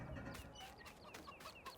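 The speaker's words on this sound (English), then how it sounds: "those chickens" Chickens cluck in short, chirpy bursts that repeat irregularly through a soft, steady background, faint and without any voices.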